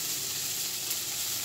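Bell peppers and onions sauté in a heavily seasoned pan with charred bits left from cooked meat, giving a steady, close, even sizzle throughout with no talking.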